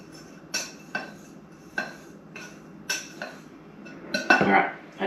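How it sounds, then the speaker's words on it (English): Spoon clinking and scraping in a bowl while paprika seasoning blend is mixed, a series of sharp taps roughly every half second ending in a louder burst of scraping, close and alone. "Get all that paprika mixed up really well."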